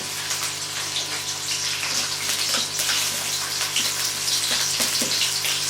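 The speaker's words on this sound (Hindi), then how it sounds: "ये हमारा ऑयल गर्म हो गया है। अब इसमें हम प्याज ऐड करेंगे।" Onions hiss and crackle as they fry in hot oil for a rice and chicken dish, a steady dense sizzle with scattered pops, close and continuous with no talking.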